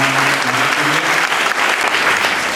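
Children at a primary school birthday celebration break into loud, sustained applause, a dense wash of many small hands clapping together across the whole moment, with faint voices mixed underneath.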